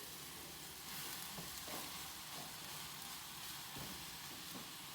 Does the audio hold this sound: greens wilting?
yes